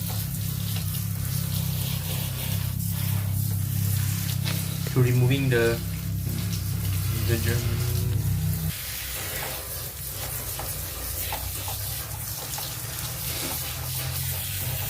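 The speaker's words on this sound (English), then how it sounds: "we rinse the air conditioner filter with water to remove the dirt from it" Running water rinses the dirt from an air conditioner filter in a steady hissing spray that suddenly drops away partway through, while a person talks over it.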